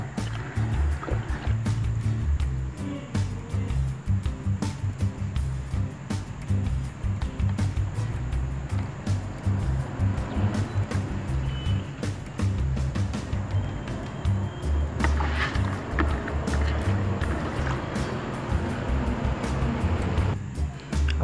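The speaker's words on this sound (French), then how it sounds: "Rincez les graines et répétez l'opération 4 à 5 fois" Grain seeds rinsed by hand in water for mushroom spawn: continuous close sloshing and swishing with a rushing, gurgling texture, steady for about twenty seconds with no speech.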